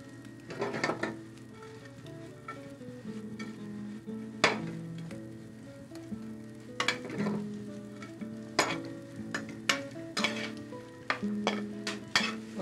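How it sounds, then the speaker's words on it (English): Croutons fry in a pot of oil, giving a steady sizzle with repeated clinks and scrapes of a utensil stirring through them, up close and without voices. "You want just to give a little color on your croutons."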